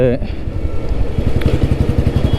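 A vintage Royal Enfield Bullet motorcycle, a G2 or B1 model, idles nearby with a steady, rhythmic engine thump that grows slightly louder partway through and runs on its own throughout.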